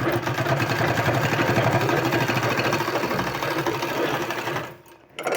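A sewing machine stitches a folded fabric sleeve strip, its rapid mechanical whir running loud and continuous for several seconds before stopping briefly near the end.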